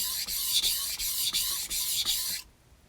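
A Japanese kitchen knife is stroked back and forth across a whetstone, giving steady rhythmic rasping scrapes with brief pauses between passes, close and clear, before it stops abruptly.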